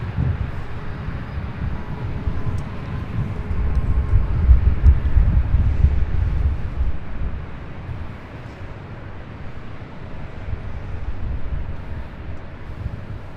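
An airliner takes off from runway 24 left at LAX, a broad low jet rumble swelling and then fading steadily, mixed with wind buffeting the microphone.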